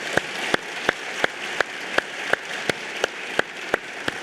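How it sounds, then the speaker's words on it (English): A forum audience honoring military and law enforcement members gives sustained applause, a steady crackling wash of clapping punctuated by regularly spaced sharp, loud claps, with no voices over it. "Let's give them a round of applause for your service."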